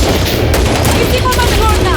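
Rapid bursts of gunfire in a sci-fi action movie battle, loud and dense with booming impacts, shouted voices mixed in over the shooting.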